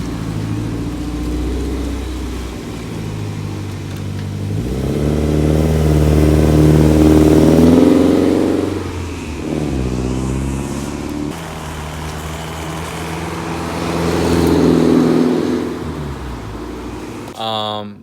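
A Japanese-imported car fitted with a hardtop drives along the road, its engine swelling and easing through the gears in steady rolling passes, fairly loud and continuous, with a voice talking over parts of it.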